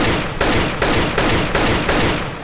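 Rapid bursts of gunfire in a first-person shooter game, five or six loud, evenly spaced volleys that roll together almost without pause, with no voices.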